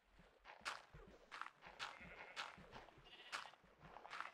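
Sheep bleating in the video game Pig Island, a series of about seven nasal bleats at a steady rhythm over soft footstep-like thumps, fairly close and moderately loud with no talking.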